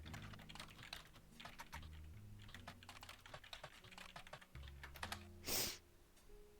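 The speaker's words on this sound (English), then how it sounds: "What happens if I type in a full sentence?" A full sentence typed on a computer keyboard: rapid, uneven clicking keystrokes close up, finishing with a louder key strike.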